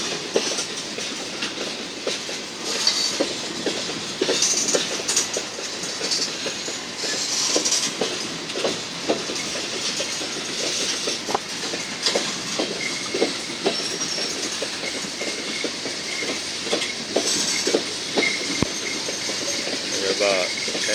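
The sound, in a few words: freight train passing, hauled by GE locomotive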